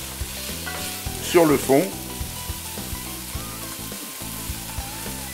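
Lardons browning in a pan give a low sizzle under a brief French voice, with a tonal hum running through and a short louder burst early on.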